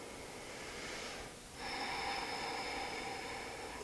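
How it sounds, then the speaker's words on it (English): Quiet, slow breathing during a yoga stretch on a mat: a soft airy inhale, a brief pause, then a longer breathy exhale, close and gentle with no talking. "Keep breathing."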